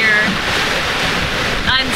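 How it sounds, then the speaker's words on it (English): Big ocean waves out at sea, heard from a small boat: a loud, churning wash of water with gusty wind buffeting the microphone, constant throughout, with a brief higher splash near the end. "The waves are pretty big."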